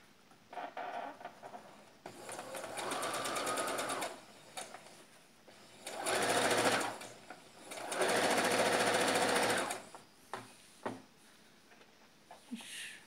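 Sewing machine stitching the band strip onto a men's shirt, running in several bursts of steady rapid whirring separated by short pauses and handling clicks.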